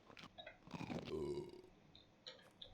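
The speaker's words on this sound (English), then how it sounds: "You want that burp." A character in the survival game UnReal World lets out one long, throaty burp after eating roasted roaches, with a few soft clicks around it.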